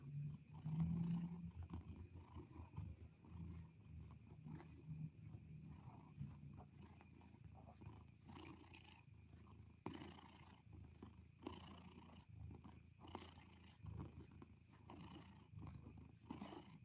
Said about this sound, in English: Let's see if I can get some Luna purrs for you guys.